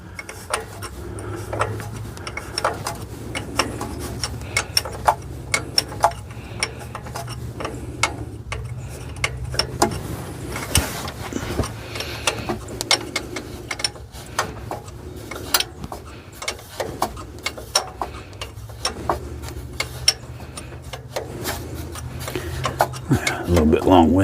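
Ratchet working carburetor nuts off long studs on a Ford F100 one-barrel carburetor, a steady run of small quick clicks repeating close by over a low hum, with occasional louder knocks.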